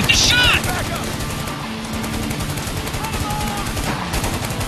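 Automatic gunfire and fusillades from the third-person shooter Spec Ops The Line during a battle, loud and continuous with rapid bursts across the whole stretch, with shouted game dialogue around it.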